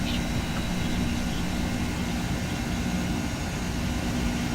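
Aircraft engine in the X-Plane 10 flight simulator throttled up for a climb, a steady, loud, unbroken drone with a low rumble and broad hiss, a voice faintly present beneath.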